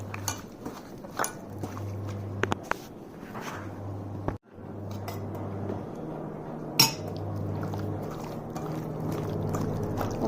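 Salt, coriander powder, Kashmiri red chilli, tandoori masala and oil are mixed together in a bowl, with soft, intermittent spoon clinks and scrapes over a quiet kitchen hum and one sharp knock.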